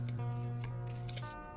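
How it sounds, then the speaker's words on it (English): A deck of tarot cards is shuffled by hand, giving quiet papery riffles and soft rubbing bursts over a faint steady hum. "I'm going to shuffle the deck"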